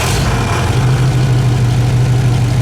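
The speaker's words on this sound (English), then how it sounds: "Well, it's not too bad right now when it's idling." A 1964 Studebaker Wagonaire fitted with a cherry bomb muffler idles nearby, a steady low throbbing rumble with no talk over it.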